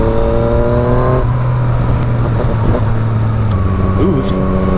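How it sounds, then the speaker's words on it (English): Yamaha FZ-09 motorcycle engine revving hard, then throttle chopped so revs drop sharply, steady and close over constant engine drone, with a voice briefly heard. "Ooh, throttle chops are nice."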